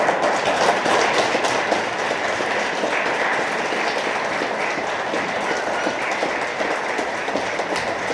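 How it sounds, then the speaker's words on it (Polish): An audience at a church nativity play in a sanctuary in Krosno gives loud, sustained applause, a dense and even clatter of clapping throughout. "Wielkie brawa."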